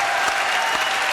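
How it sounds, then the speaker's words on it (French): Steady studio-audience applause, a dense even wash of clapping from a crowd filling the whole moment without a break, no voices standing out. "Applaudissements pour Muriel Cousin, mesdames, messieurs"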